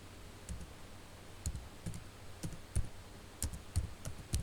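A computer keyboard being typed on to enter a map name in QGIS: irregular, close, crisp key clicks in short bursts, with no talking.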